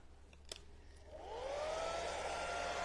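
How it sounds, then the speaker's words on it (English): A hair dryer switches on to dry stencil paint during an upcycle project, rising into a steady, loud whooshing blow that continues to the end after a few faint clicks. "Just hit that with the dryer"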